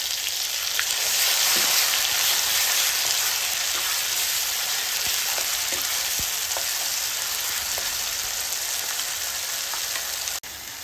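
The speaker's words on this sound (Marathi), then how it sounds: "आपल्याला आता हा जो मसाला आहे तो 5 ते 7 मिनिटं व्यवस्थित तेल सुटेपर्यंत भाजून घ्यायचा आहे" A steady, loud sizzle of a thick ground spice paste frying in hot oil for chhole continues throughout, with occasional pops and scraping stirs.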